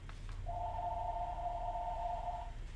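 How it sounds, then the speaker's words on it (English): A telephone rings once with a steady electronic tone held for about two seconds, faint and somewhat distant over a low room hum. "there's the phone because it won't stop ringing"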